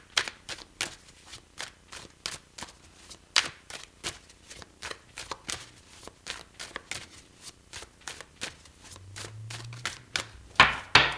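Tarot cards being shuffled for a reading, a steady series of crisp riffling and tapping bursts, close and clear with no talking.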